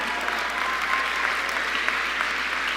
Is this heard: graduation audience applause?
yes